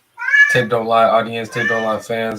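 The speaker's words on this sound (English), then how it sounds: "Excuse my cat in the background." A pet cat meows loudly indoors, one drawn-out cry at the start, then someone talks over its continued background mewing.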